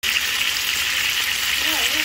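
Chopped onion and garlic sizzle and fry in a hot pan while a salsa roja is made, a steady, dense crackle that runs unbroken and close, with a voice faint beneath it.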